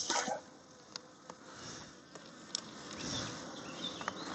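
Honeybees in a Kenyan top-bar hive during an inspection, a close, wavering buzz of individual bees passing near, with a few light knocks and handling sounds.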